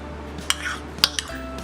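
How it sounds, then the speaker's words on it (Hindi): Mango pieces drop into a glass with a few soft clinks and light taps against the glass, brief and close over a quiet background hum. "सबसे पहले हम ग्लास लेंगे, इसमें हम डालेंगे आम के टुकड़े।"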